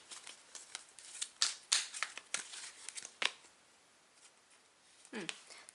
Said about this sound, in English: We're told to shuffle a little bit more, so we'll do that.